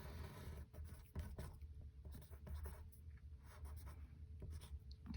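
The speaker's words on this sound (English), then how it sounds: "let's make a nice little sketch here" A pen sketching a graph on paper, producing close, soft scratchy strokes in an uneven rhythm of short and longer marks over quiet room noise.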